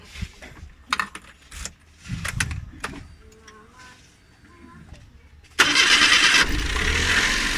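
Clicks and rattling keys, then a Suzuki Every Wagon DA64W's small K6A engine cranks and starts, settling into a steady close idle for the last couple of seconds.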